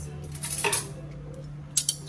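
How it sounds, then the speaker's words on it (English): Metal cutlery clinks and rattles briefly, close by, a few light jingles and taps over a low steady hum. "let me get my cutlery"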